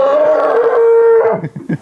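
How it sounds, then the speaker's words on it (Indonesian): A large, very broad black Pegon cow kept for sacrifice moos loudly once, a long drawn-out call lasting over a second, with shuffling noises and faint background activity in a cattle pen after it. "Sapi monster warna hitam, lebar sekali, jenis pegon."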